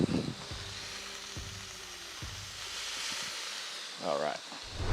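Slider patties with melting cheese cooking on a griddle, giving a steady soft sizzle and hiss throughout, with a few low knocks and a voice briefly heard near the end.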